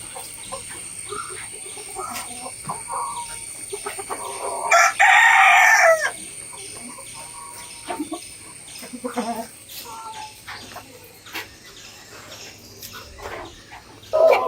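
Four-month-old young chickens, not yet laying, cluck and chatter intermittently in a backyard flock, with one louder call bursting out midway and quieter fowl sounds around it.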